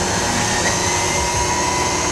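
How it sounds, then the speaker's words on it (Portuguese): An electric kitchen mixer whirs steadily while beating eggs for a chocolate cake as sugar is added gradually, a constant loud motor drone with no talk. "Eu vou ligar minha batedeira agora, vou pegar o açúcar e vou adicionar ele aos poucos"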